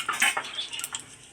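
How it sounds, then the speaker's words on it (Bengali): A spoon stirs spices in a cooking pot with a few quick scraping clinks against the metal, close and fairly loud. "ভালো করে নাড়িয়ে নেব।"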